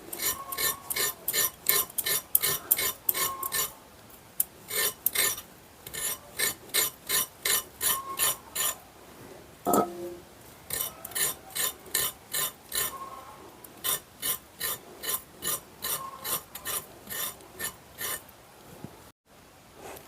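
Carrots being peeled with a peeler for carrot halwa, rapid rhythmic rasping strokes in quick bursts repeated steadily, close by.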